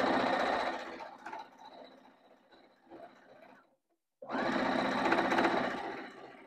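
A sewing machine stitches pieces of an up-cycled jeans quilt with a dense, fast mechanical whir that runs, slows and softens, stops briefly in silence, then starts again at full speed, close and steady.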